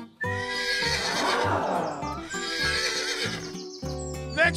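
A horse neighs loudly in two long, shaky whinnies close by, followed by a brief sharp snort at the end.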